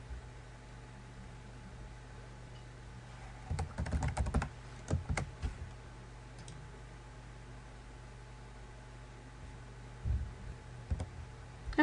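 Password being typed on a computer keyboard, two short bursts of quick key clicks, one around the middle and another near the end, over a low steady room hum with no talking.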